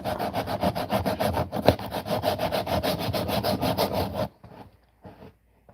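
Rough, rhythmic back-and-forth scraping of sandpaper on wood, loud and close, in steady rapid strokes for about four seconds, then stopping, leaving near silence with a couple of faint soft rubs.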